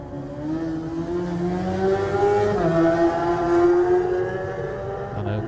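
A Smiths Racing BMW superstock motorcycle pulls away at the start of a TT race, its engine note rising steadily and loudly through the gears as it accelerates from close by.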